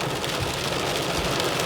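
Heavy rain pounds on a moving car in Toronto, a dense, loud and constant wash of drumming drops with a low road rumble beneath it.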